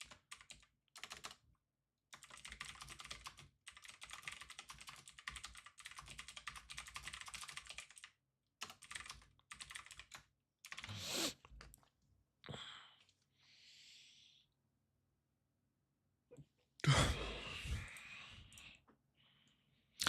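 Fast typing on a computer keyboard during a live futures trading session, with dense clattering key bursts close to the mic, broken by pauses, a few isolated clicks and soft breaths.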